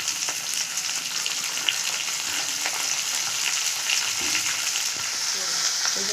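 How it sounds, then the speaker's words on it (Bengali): Raw green tomatoes frying in a pan, an even, dense sizzle that holds steady and close for the whole stretch, with faint occasional crackles and no talking. "কাঁচা কাঁচা টমটম একটু নিয়ে একটু ভেজে নিই"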